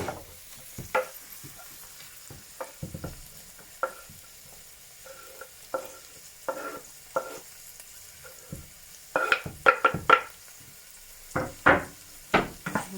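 Vegetables for callaloo and saltfish frying in a hot pan, a faint low sizzle punctuated by irregular knocks and scrapes of a utensil against the pan, busier toward the end.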